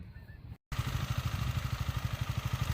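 A 2006 Yamaha Morphous maxiscooter's fuel-injected engine idles close by with a steady low pulsing rhythm that is not very loud, starting after a brief silence.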